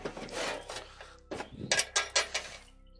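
A metal drawer slides into a suburban tool box holding tools, electrical gear and an air hammer, giving close rasping, rubbing scrapes followed by a few sharp clunks as it seats.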